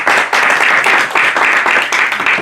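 Steady, dense applause fills a municipal council meeting hall, many hands clapping loudly and continuously throughout with no pauses.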